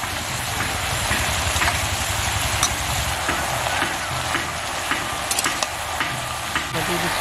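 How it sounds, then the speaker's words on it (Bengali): Soaked potatoes and cauliflower go into a hot pan for a mixed-vegetable curry, bringing on a steady close sizzle and frying crackle with occasional stirring clatter throughout. "ভিজে রাখা আলু আর কপিগুলো দিয়ে দিচ্ছি"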